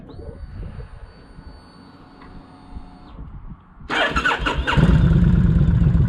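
A Kawasaki Vulcan 1600 cruiser engine idles low and steady, then revs up sharply to a loud, throaty roar that holds near and strong to the end, with no talking.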